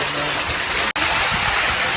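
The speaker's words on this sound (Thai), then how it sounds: "เนี่ยจะเป็นน้ำตกไหลลงมาจากข้างบนนะครับเนี่ย" Water tumbles from above at a waterfall in Ban Sing Tham, Chiang Kham, Phayao, roaring loud and steady with one split-second dropout, while a voice murmurs faintly beneath.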